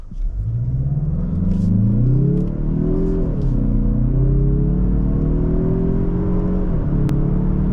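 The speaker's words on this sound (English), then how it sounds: "let's do our 0 to 60 test. So this is gonna be from idle" A 2024 Mazda CX-30 Turbo Premium accelerating hard from idle, engine note rising through the gears with a brief dip at a shift, steady loud cabin rumble and whir throughout, no speech.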